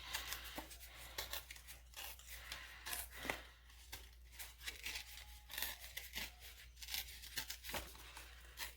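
Paper being torn and broken by hand while making a fall collage journal page, a run of close, scratchy rips and crinkles in irregular bursts, with no talking.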